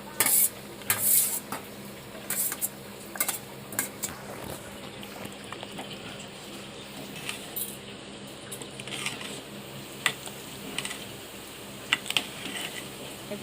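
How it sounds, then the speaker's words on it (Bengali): Meat khichuri is stirred in a pot, with intermittent spoon scrapes and light metallic clinks over a faint, low sizzle, fairly quiet and without talk. "আরও বেশ কিছুক্ষণ নাড়াচাড়া করবে"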